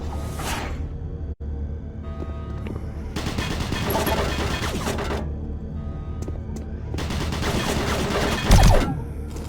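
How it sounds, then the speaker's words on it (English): Automated turret guns in Doom 3 fire in two long, rapid bursts of dense mechanical rattling gunfire, separated by a quieter stretch of ambient hum, with a heavy thump near the end. "Warning. Automated turret guns online."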